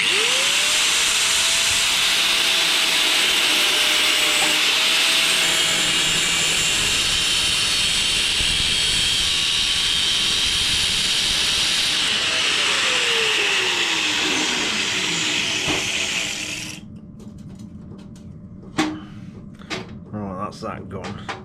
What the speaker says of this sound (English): I'll probably have to just get as close as I can and then grind away at it